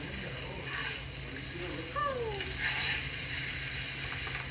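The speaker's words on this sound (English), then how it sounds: "I'm gonna add a little bit more soy sauce" Fried rice with shrimp and chicken sizzles softly in a big pan as soy sauce is added, a low steady hiss with faint clinks and a brief squeaky scrape.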